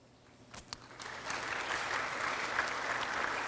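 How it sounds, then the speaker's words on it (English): Audience applause at a high school Hall of Fame and award ceremony begins with a few scattered claps, then swells into steady, moderately distant clapping from a large crowd. "as we give them a warm round of applause"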